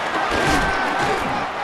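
A stadium crowd in the Madden NFL 26 football video game roars steadily ahead of a big third down, a loud, dense wash of cheering.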